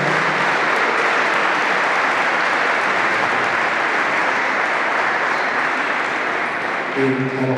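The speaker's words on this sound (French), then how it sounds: "je voudrais vous les remercier, que vous les applaudissiez très très fort" An audience at a handball talk breaks into loud, sustained applause for the players, a dense unbroken wash of clapping at close range that holds steady with a faint voice near the end.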